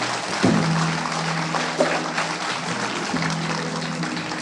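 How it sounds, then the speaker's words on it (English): A live audience gives a band a steady round of applause, a dense even wash of clapping with a low tonal hum running beneath it. "How about a nice round of applause for the group,"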